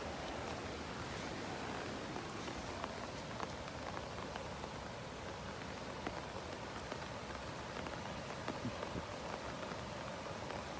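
Floodwater rushing through Walnut Creek in Austin, Texas, a constant dense roar of moving water with scattered splashes and droplet ticks, close and unbroken throughout.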